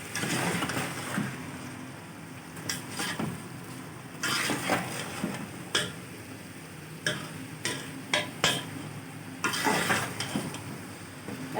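Rice being stirred into bubbling zarda syrup in a pot over a medium flame: a soft sizzle underneath repeated scraping and knocking of a spoon against the metal pot at irregular intervals, with no speech.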